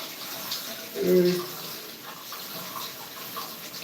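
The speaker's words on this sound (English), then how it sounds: "then rinse off the rest of the stove" Tap water runs steadily while rinsing off a kitchen stove, a soft continuous splash with a brief louder gush early on, fairly faint and close.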